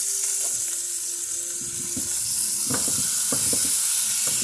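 Steaks fry in a pan with a constant loud, bright sizzle. Soft scrapes and light knocks come through as the steaks are turned over, close up.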